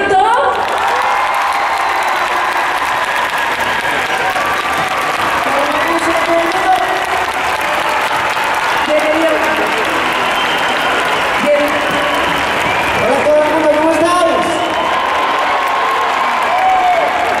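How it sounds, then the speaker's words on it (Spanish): Concert audience at a Dial Únicos festival applauding and cheering for a singer, a dense continuous wall of clapping with shouts on top, loud and sustained throughout, with a voice calling out near the end. "Quiero que le des un fuerte aplauso"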